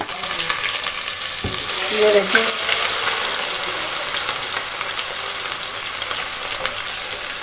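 Garlic ginger paste hitting hot oil with fenugreek seeds and fennel, a loud continuous close sizzle and crackle with a brief stir, and a voice speaks briefly at the start.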